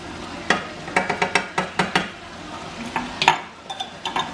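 Chicken and pesto being stirred in a pan with a utensil, giving a series of sharp scrapes and clinks against the pan in a loose, uneven rhythm, close and fairly loud with a faint sizzle underneath.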